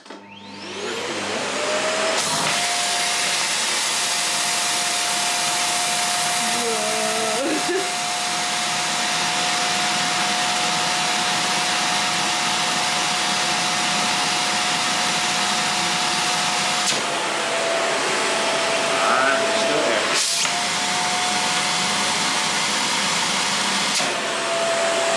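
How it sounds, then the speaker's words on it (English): A loud vacuum cleaner sucks air out of clothes storage bags, running continuously with a steady whine, its pitch shifting briefly a couple of times as airflow changes. "Using vacuum bags, yeah, that's it."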